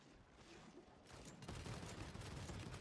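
Gunfire in the video game Paladins, a quiet start breaking into a dense burst of rapid shots that continues steadily, heard alone without talking.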